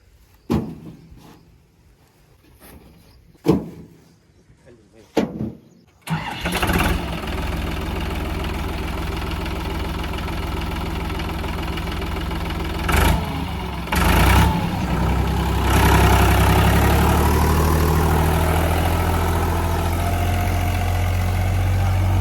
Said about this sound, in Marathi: आणि हा पॉवर हाऊस सिरीजचा ट्रॅक्टर आहे, युरोमध्ये